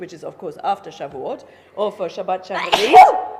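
Someone speaks steadily, then a sudden sharp sneeze bursts out near the end, cutting across his talk.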